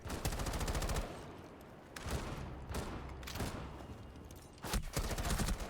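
Gunfire in the video game Rainbow Six Siege comes in repeated rapid automatic bursts separated by short pauses, loud and close, with one burst at the start, several in the middle and another near the end.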